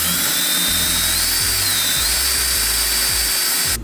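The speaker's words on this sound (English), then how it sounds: "I put in a larger drill bit because this one will allow my wood screw to go through there." A power drill fitted with a larger bit bores through wood to enlarge an existing hole for a wood screw, a loud, steady whine with the motor note rising and dipping as the bit bites, running alone until it cuts off abruptly at the end.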